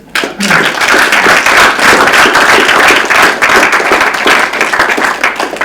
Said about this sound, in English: Can we get a round of applause for both?